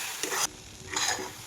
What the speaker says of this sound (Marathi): साखर आणि आवळा छान असं एकजीव होऊन त्यांचा घट्ट असा गोळा होईपर्यंत आहे ना हे मी असं हलवून घेणार आहे.